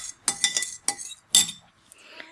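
Spoon stirring a tablespoon of butter as it melts, a quick series of close metallic clinks and scrapes against the pan, then a softer tapering scrape.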